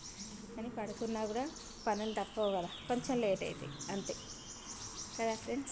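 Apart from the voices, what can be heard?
birds chirping overhead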